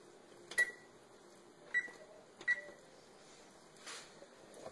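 A home oven's control panel, switched from bake to broil while roasting chicken with stuffing, gives several short electronic beeps at uneven intervals, fairly quiet and close, followed by a soft click.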